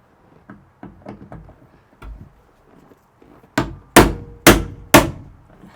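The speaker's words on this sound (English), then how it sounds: "this is called an impact screwdriver" A hammer strikes an impact screwdriver to loosen screws on the passenger side of a Toyota FJ40, first with several light taps and then four loud, sharp blows spaced about half a second apart.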